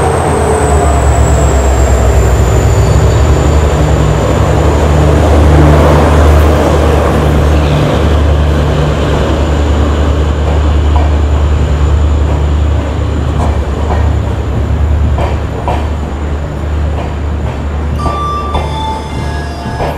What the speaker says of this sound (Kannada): ನಮ್ಮ ಪ್ಯಾಲೇಸ್ ಕ್ವೀನ್ ಹಮ್ಸಫರು ಎಂಟ್ರಿ ತೊಗೊತಿದೆ KSR ಬೆಂಗಳೂರಿನ ಪ್ಲ್ಯಾಟ್ಫಾರ್ಮ್ ನಂಬರ್ 8ಗೆ